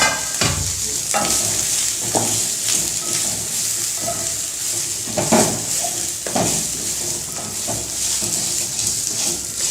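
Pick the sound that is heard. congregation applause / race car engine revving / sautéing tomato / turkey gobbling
sautéing tomato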